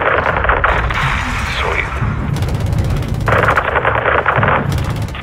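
Air strike gunfire raining on a greenhouse in Call of Duty Modern Warfare II, a dense continuous roar of heavy rounds and rumbling impacts that swells in bursts, with radio chatter running underneath.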